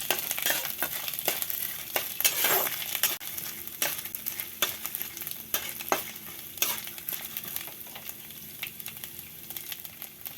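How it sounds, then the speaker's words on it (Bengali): Grated coconut fries in white oil for sago pulao while a spatula scrapes and stirs it, a steady crackling sizzle punctuated by repeated sharp scraping strokes at an irregular pace, close up with no voices. "আমি প্রথমে নারকেলটা ভেজে নিচ্ছি"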